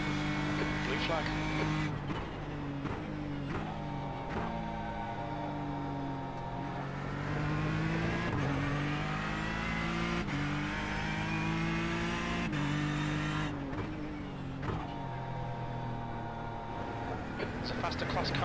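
Ford GTE race car engines howl at Daytona in a video game, a loud rising and falling drone that shifts through gears as a faster-class car closes in from behind, with someone talking over the engine noise.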